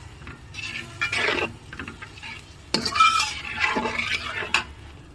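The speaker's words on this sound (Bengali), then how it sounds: "লবণ দিয়ে মশলাটাকে আমি সুন্দর করে কষিয়ে নেব।" Spice paste cooking with salt in a pan for a red lentil dal, heard as soft scraping stirs and clinks of a utensil against metal over a faint sizzle, in intermittent bursts with no talk.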